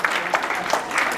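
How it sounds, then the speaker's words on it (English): A group audience gives a round of applause, a dense burst of many hands clapping with scattered louder claps throughout. "round of applause for everybody who stood"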